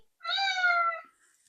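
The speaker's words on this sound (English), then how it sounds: "The cat's yelling at me." A cat lets out a single loud, drawn-out meow lasting under a second, close by and alone.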